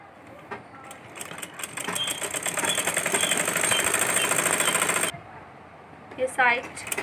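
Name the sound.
sewing machine stitching elastic casing of baby frock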